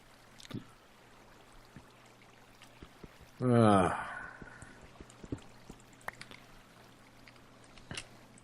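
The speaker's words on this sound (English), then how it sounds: "I know the water flow is screwed up" Water flowing in the Minecraft video game, a brief burst of rushing, pouring water swelling up for under a second amid quiet background sounds and faint clicks.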